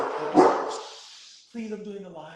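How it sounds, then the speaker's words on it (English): A dog barks loudly close by in a single burst, then a whining, yelping tone follows after a brief lull, with a person speaking over it indoors. "There's a dog that lives upstairs, and he barks, and then my dog barks."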